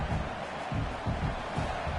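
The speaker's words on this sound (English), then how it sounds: "Listen to the crowd energy here in the early going" Dense roar of a football stadium crowd at a Houston versus Texas game, a steady broad wash of many distant voices swelling in low pulses throughout, with no single voice standing out.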